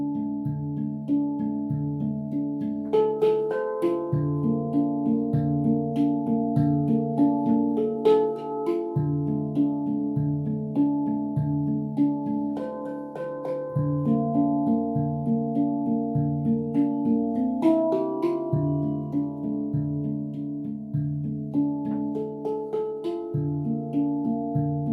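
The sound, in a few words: handpan being played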